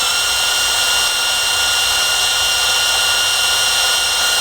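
Steady high-pitched whine of a power drill running in reverse to spin the oil pump of a Ford engine fitted with Holley Super Sniper EFI, continuous and close for the whole stretch with no talk.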